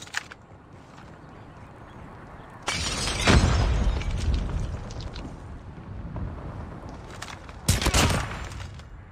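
A grenade bursts in a Call of Duty Search and Destroy match with a sudden loud boom and rumbling tail, followed by scattered gunfire and a second sharp blast.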